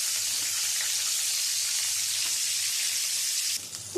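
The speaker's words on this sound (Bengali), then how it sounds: "ফুলকপিগুলো লাল লাল করে ভেজে নেওয়া হয়ে গেছে, এবারে তুলে নিচ্ছি।" Cauliflower pieces deep-frying in hot oil after other vegetables, a loud, steady, close sizzle that continues throughout and drops slightly near the end.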